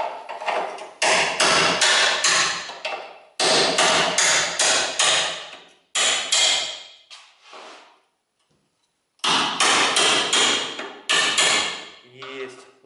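A hammer drives a chisel into a Tiguan's steel chassis rail during frame straightening, sharp rapid metallic blows in several long bursts with a brief pause, loud and close.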